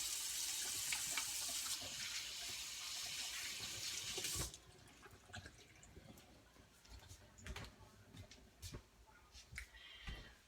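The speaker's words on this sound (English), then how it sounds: "I'm going to rinse my hands here." A kitchen tap running while hands are rinsed, a loud steady gush of water that cuts off abruptly partway through, followed by faint drips and small handling noises, with no speech.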